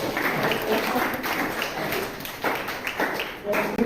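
Classroom applause, a group of students clapping continuously for several seconds with faint talk mixed in, fairly loud and close.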